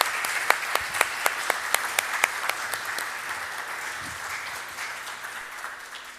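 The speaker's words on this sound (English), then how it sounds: "round of applause for Ralph" An audience applauds Ralph and the FAIR team at a live talk, a broad wash of clapping with a few sharp, evenly spaced claps standing out early before the applause gradually thins and fades.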